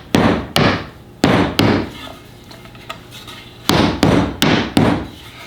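Wooden dowels tapped into a larger workpiece after boring with a Mafell Duo dowel machine, as two sets of four sharp knocks in quick pairs, close and loud, with a quiet gap between the sets.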